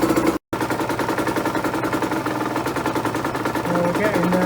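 A small engine runs steadily after a cold start on a 50/50 fuel mix, with a dense, rapid firing rhythm, loud and close, pausing briefly once near the start before carrying on.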